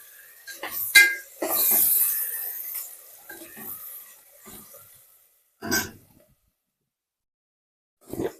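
Tomato pieces go into a pan of simmering Andhra-style country chicken curry, giving a few loud clattering stirs and scrapes of a spoon against the pan, then short pauses and two brief later bursts of stirring.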